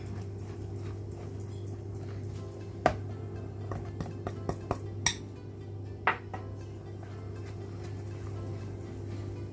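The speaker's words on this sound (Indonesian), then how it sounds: "kita masukkan semuanya dan aduk secara perlahan-lahan" Cake batter for a caramel sponge is stirred in a bowl, with a few scattered clinks and taps of a utensil against the bowl over a steady low background hum, faint and unhurried, no talking.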